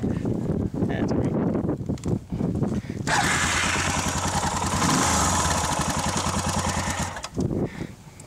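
A motorcycle engine, likely a big adventure bike such as a BMW F800GS, Suzuki DR650, KTM 640 or BMW HP2, revs and rumbles close by, building to a loud sustained drone while people talk over it.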